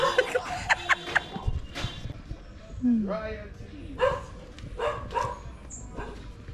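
Chained dogs bark and yip in a yard, several sharp barks and a whine scattered among close talking and outdoor background noise.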